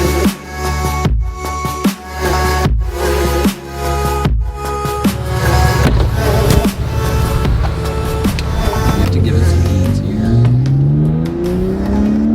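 A modded BMW 328i engine revs in sharp repeated bursts, each pull climbing hard and cutting off near redline, then holds a long rising rev at close range.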